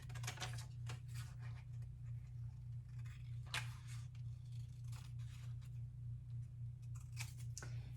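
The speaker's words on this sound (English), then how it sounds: "So now that it's colored in, we're going to cut it out." Scissors cutting out a colored paper penguin, a series of soft snipping clicks at an uneven pace over a steady low hum, faint and close.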